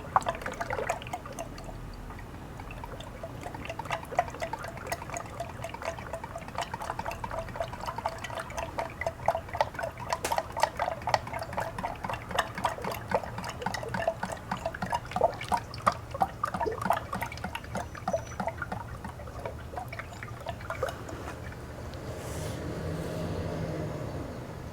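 Motor oil, Kirkland Signature full synthetic, glugs and pours into a 5-gallon jug in a steady stream with dripping and splashing through most of the run, tapering off near the end.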